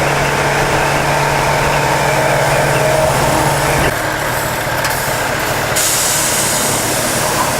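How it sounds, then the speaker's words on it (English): A truck rumbles close beside a motorcycle rider, with heavy engine drone mixed into loud wind roar. A hiss of air brakes cuts through partway, and the noise stays loud and continuous throughout. "it's so windy next to a truck"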